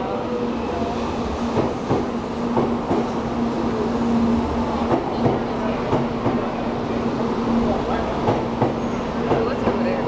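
A Shinkansen bullet train in Japan running at speed, heard from inside as a steady, loud rumble and rush with faint rhythmic clicks, while people talk occasionally.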